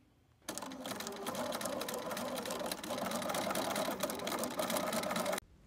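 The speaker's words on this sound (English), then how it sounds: "So here I have it all pinned and ready to get stitched." Sewing machine stitching a pillow cover, a steady fast whirring stitch that starts abruptly, runs continuously for about five seconds, then stops.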